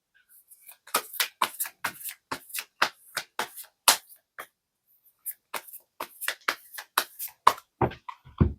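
Tarot cards being shuffled by hand, heard as a steady run of crisp riffling bursts and slaps that stop briefly midway, then resume with a few heavier taps at the end, close and clear with no talking.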